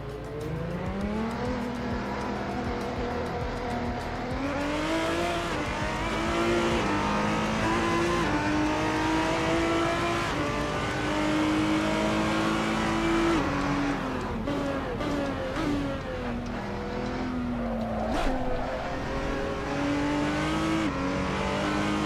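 Engine of a Maserati MC12 in a racing video game, droning loudly throughout as it revs and shifts up through the gears, with steady harmonic climbs and brief tire noise near the end.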